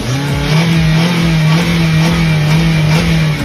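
A car engine runs after new spark plugs are fitted, holding a loud, steady idle hum with a slight rise in revs, close by and with no talking.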